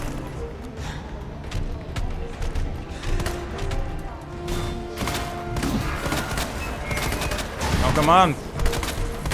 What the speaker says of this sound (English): So many bullets, none of them hit.